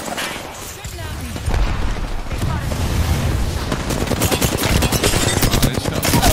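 Rapid bursts of gunfire in Apex Legends, dense automatic shots intensifying into a sustained loud barrage with close impacts, a player's voice talking over it.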